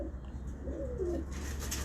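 A single pigeon gives a soft, brief coo against low background noise.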